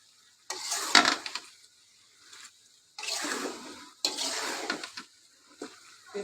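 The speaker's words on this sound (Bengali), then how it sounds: "এখন পেঁপে আর ফ্যাপসা একটু ভালোভাবে কষাবো" Papaya and beef lung sautéed with spices in a pot come through as a few separate bursts of stirring and sizzling, broken by short quiet gaps, close and moderately loud.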